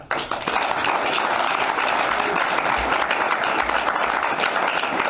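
Audience at a board meeting bursts into sustained applause, a dense, fairly loud wash of many hands clapping that carries on steadily to the end.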